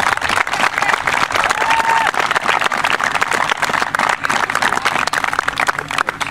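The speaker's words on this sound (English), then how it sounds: "we just put a round of applause again for both teams" A crowd applauds both teams after a women's football match, MTLFC vs Clifton, with sustained, dense clapping from many hands, fairly loud and steady, a few voices mixed in.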